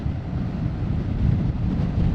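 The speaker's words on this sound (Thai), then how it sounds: "ลมค่อนข้างแรงฮะเย็นวันนี้" Strong, cool wind blowing across an outdoor work site near a factory, a steady low rumbling buffet against the microphone that swells slightly in the second half, with no speech.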